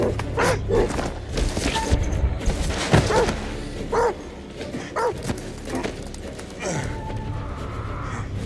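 A dog in the horror video game The Devil in Me barks in scattered bursts over a busy game soundscape, mixed with breathy gasps and sighs.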